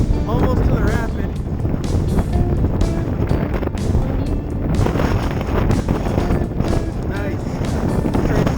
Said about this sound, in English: That afternoon the wind really picked up